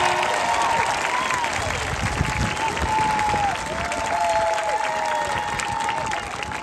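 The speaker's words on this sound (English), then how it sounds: "Join me in a round of applause for your faithful family and friends" At a 2022 high school commencement ceremony, a large audience claps steadily for several seconds, a dense, loud wash of applause with a faint sustained tone and light cheering mixed in.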